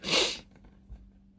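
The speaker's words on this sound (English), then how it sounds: "I need to sneeze" A single sharp sneeze up close, followed by faint breathing and quiet room noise.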